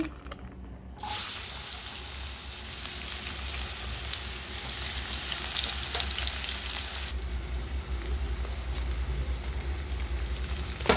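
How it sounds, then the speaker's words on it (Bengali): Chopped onions sizzle and fry in hot oil in a home kitchen while potato mash is being made, a steady loud crackling hiss that jumps up sharply just after the start and continues unbroken, with no voices. "তার জন্য তেল বসিয়ে দিয়েছি, দেবো পেঁয়াজ কুচি"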